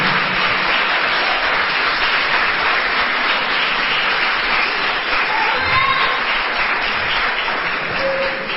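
A church congregation applauds in a sustained, dense wave of clapping that holds steady and loud throughout, with a few faint voices and cheers mixed in.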